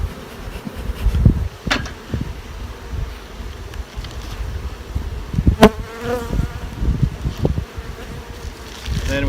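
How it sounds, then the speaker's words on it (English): Honeybees buzzing loudly and continuously from an opened hive during spring brood nest management, a dense close drone with scattered individual bees passing near, plus light handling noise and a little wind outdoors. "opening up the top of the hive, trying to push these bees down"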